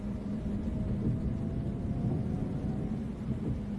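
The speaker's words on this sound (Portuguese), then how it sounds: "Eu acho que a chuva já tá passando." Rain and rolling thunder in a bus-driving simulator game, heard from inside the bus cabin as a steady, muffled low rumble with a continuous wash of rain, fairly faint and unbroken.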